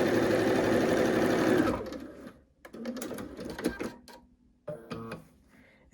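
A sewing machine stitches a quilt seam on a Lemoyne Star block, running in a fast, steady whir for under two seconds before stopping. Faint handling clicks and taps follow close by.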